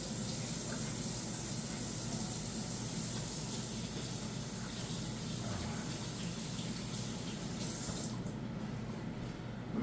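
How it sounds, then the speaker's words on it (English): Hands are washed under a kitchen tap with a steady, close rush of running water that continues for several seconds before the flow cuts off near the end. "We're going to give our hands a quick wash."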